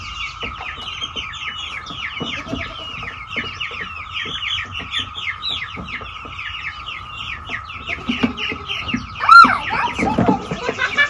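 A flock of chickens clucks and chatters continuously at close range, with many overlapping rapid calls over a steady tone and a louder burst of fluttering near the end.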